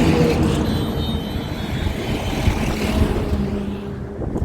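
A Hero Xtreme 125 new-model motorcycle rides along a road on a long trip, giving a loud steady engine drone mixed with rushing wind that holds constant throughout, with no speech.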